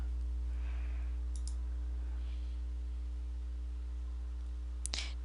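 Two quick mouse clicks land close together early on while a check mark is selected in accounting software, followed later by a single sharper click, all faint over a steady electrical hum.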